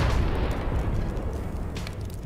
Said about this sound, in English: even though there was a big explosion